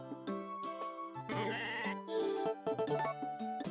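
Cartoonish sheep bleat in the farming video game Harvest Moon: Tale of Two Towns, several short electronic cries with a light jingle layered over game music.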